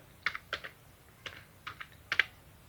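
Typing on a computer keyboard, a few short bursts of clicky keystrokes in quick clusters with pauses between, close and clear, no voices.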